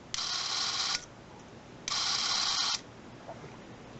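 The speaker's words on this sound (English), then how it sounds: "you can see how the shutter actually works" Bell and Howell 414P movie camera with its shutter running in two bursts, each a steady mechanical whir lasting about a second with a short pause between, close and clear with no talk.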